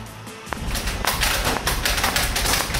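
Toy bullets hitting, a sharp tap followed by a run of dull thumps and clattering impacts, loud and close, no voices.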